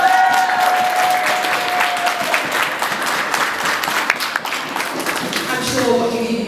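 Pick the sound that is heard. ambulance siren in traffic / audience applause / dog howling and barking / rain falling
audience applause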